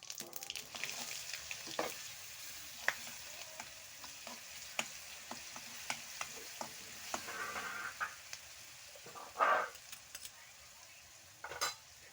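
Cumin and mustard seeds sizzle in hot oil while tempering dal, giving a soft steady crackle with scattered pops and a few stirring clinks, fairly faint and close.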